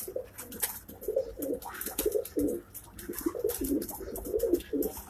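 Several pigeons coo close by on a rooftop in Karachi in repeated soft, throaty bursts, overlapping one another, with light rustling and scattered clicks around them.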